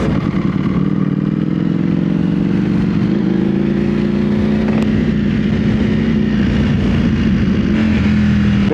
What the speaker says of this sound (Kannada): ಬೇಜಾನ್ ಗಾಡಿ ಸ್ಟಾರ್ಟ್ ಆಯ್ತಿದೆ ಇವಾಗ